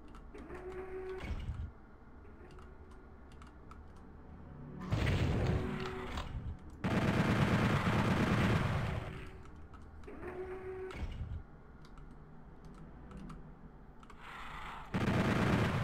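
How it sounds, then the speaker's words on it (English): A chain gun in the Doom 64: Retribution video game fires in loud, rapid mechanical bursts, three or four bursts of a few seconds each with quieter gaps between them. "the sound effect for the chain gun"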